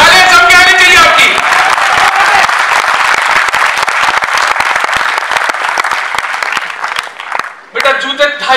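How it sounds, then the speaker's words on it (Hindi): An audience at a comedy poets' gathering bursts into loud, sustained applause, dense clapping of many hands. A voice speaks over it at the start and again at the end. "तालियां जम के आनी चाहिए आपकी"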